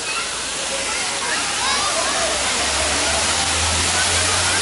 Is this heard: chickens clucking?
no